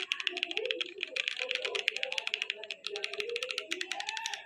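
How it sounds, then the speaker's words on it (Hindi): Rapid typing on a compact 60% mechanical keyboard with red switches, a close, crisp stream of clacking keystrokes in quick irregular bursts, loud and steady with no talking over it. "मुझे तो बहुत क्रिस्पी और क्रंची सा कीबोर्ड लगा"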